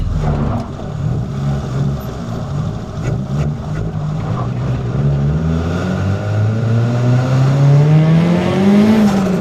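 A turbocharged Mitsubishi Lancer Evo pulls hard from inside the cabin, its engine droning loud and steady, then the pitch climbs sharply as it accelerates toward the end.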